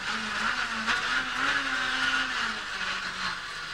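A rally car swings through a handbrake turn on a British Rally Championship stage, its engine droning steadily as the tires skid and scrub for several seconds, loud and close, with no voices.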